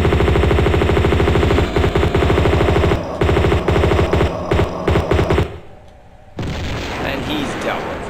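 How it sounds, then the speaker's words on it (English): Rapid automatic gunfire in Tomb Raider II remastered, Floating Islands level, as an enemy is shot: fast regular bursts with brief pauses, then the shooting stops and quieter game ambience follows. "For now I'm going to shoot this guy."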